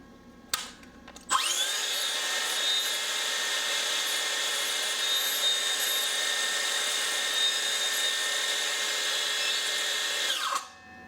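A Makita DHS680 18V brushless 6.5-inch (165 mm) circular saw spins its blade up at no load, a loud steady high whine that holds for about nine seconds and then winds down.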